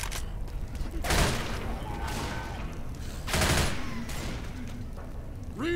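Gunfire in the video game Left 4 Dead comes as two loud bursts of rapid shots over a constant game background, with faint talk in between.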